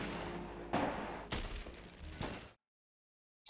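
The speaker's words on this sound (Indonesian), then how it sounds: "Disusul dengan berondongan tembakan dari anggota Mara Salvatrucha lainnya" A rapid burst of gunfire, several sharp loud shots in quick succession, each one echoing, followed by abrupt silence.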